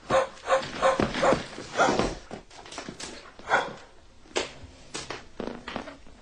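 A sick dog with rabies barks repeatedly in a rapid, irregular series of loud, close barks. A few short gaps break the run.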